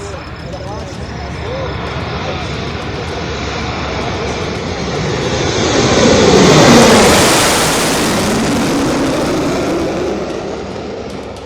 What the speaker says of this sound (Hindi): एक्सप्रेसवे पर फाइटर जेट्स ने नाइट लैंडिंग का अभ्यास किया